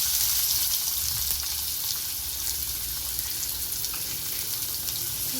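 Chopped onion fries with mustard seeds and curry leaves in a pan for homemade pasta, giving a steady close-up sizzle with soft stirring scrapes and no voices.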